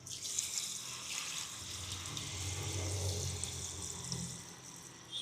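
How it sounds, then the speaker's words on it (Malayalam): Water from a pipe is poured into a container to make a homemade liquid plant fertilizer: a soft, steady, even flow throughout, with no talking. "മുങ്ങാൻ മാത്രം വെള്ളം ഒഴിക്കുക."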